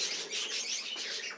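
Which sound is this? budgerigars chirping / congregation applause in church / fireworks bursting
budgerigars chirping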